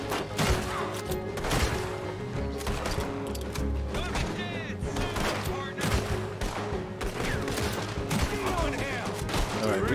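Heavy, chaotic gunfire in the Red Dead Redemption 2 video game during a jailbreak, with overlapping shots, cracks and thuds tumbling over one another in a constant loud barrage.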